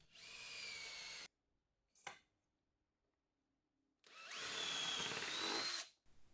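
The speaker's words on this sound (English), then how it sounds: "I'm going to drill a 5mm hole and use this Gator drill guide" A power drill whines through wood, boring a 5mm hole with a drill guide, in two loud bursts separated by near silence and a brief knock.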